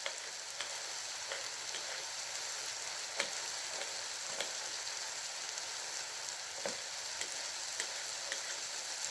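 Tomatoes frying in a pan give off a dense, steady sizzle close up, broken by occasional soft ticks and light stirring scrapes, with no talking.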